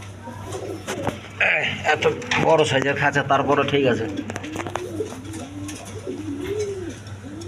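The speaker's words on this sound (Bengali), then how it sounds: "মাল্টেক্স কবুতর একদম কোয়ালিটি সম্পন্ন কবুতর একদম বিগ সাইজের" Maltese pigeons, big-bodied birds kept in a large cage, coo in soft, repeated low calls while someone talks steadily over them nearby.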